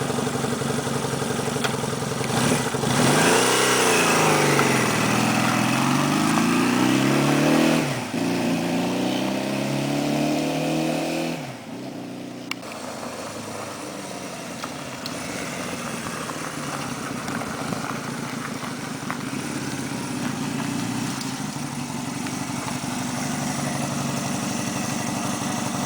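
A 1970 Honda CL175 motorcycle engine starts and runs, its revs rising and falling in a few throttle blips before settling into a steady, loud close-up idle.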